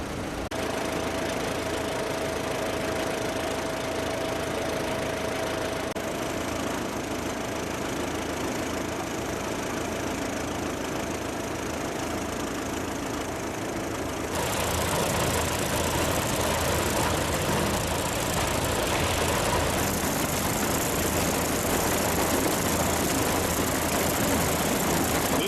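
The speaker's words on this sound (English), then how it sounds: "they're getting a tractor lined up to give power to the thrashing" An antique tractor engine at a tractor show runs steadily nearby, lined up to power a threshing machine, a continuous chugging idle that grows louder and rougher partway through, with no talking.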